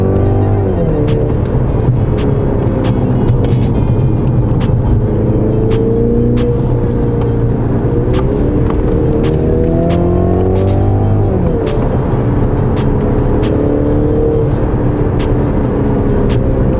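A Mercedes engine revs hard and accelerates, loud and close, pitch climbing through repeated gear changes with a continuous roar throughout.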